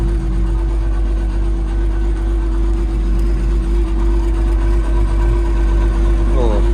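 Power shift tractor with PTO idling: a loud, close, steady low engine rumble with an even drone throughout.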